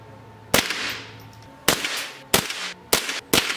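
A .38 revolver fired at a handmade katana blade outdoors, five sharp loud gunshot cracks spaced irregularly, each with a short ringing decay and no voices between them.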